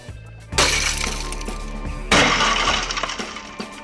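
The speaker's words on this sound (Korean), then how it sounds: "잠금 장치 부분에 큰 충격을 받으면 강화 유리가 깨지면서 금고가 자동으로 잠기는 것이다." Tempered glass shattering inside a safe's locking mechanism, two loud sudden breaks about a second and a half apart, each followed by a tinkling, fading spray of fragments, no talk.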